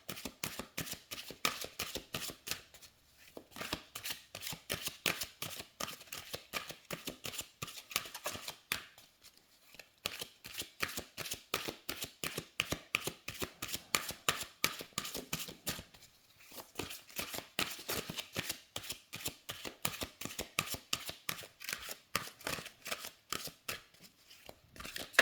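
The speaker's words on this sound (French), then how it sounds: "Alors les cartes se mélangent très très bien." Oracle cards are shuffled by hand in long continuous runs of rapid crisp flicks and riffles, close and fairly quiet, with short pauses between bursts and no talking.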